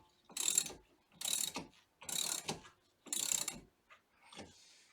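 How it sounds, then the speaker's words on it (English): Porsche 987 brake pads pushed apart with a spreader tool, four evenly spaced ratcheting clicks followed by a fainter fifth, close and crisp in a quiet garage. "Okay, so that's spreading the brake pads out."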